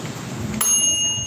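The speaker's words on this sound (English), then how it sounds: "It has a bell. When it's done, it rings." Küchenluxe air fryer sounding a bright bell chime as it is switched on, a single short ring that starts partway through and lingers as a sustained tone, fairly close in a quiet room.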